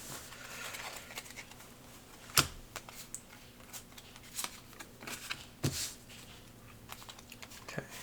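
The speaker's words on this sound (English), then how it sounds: "And discards 3 cards." Playing cards discarded during a two-player Aeons End: The New Age board game session: soft paper slides and light flicks, with two sharper card snaps near the start and middle, quiet and close.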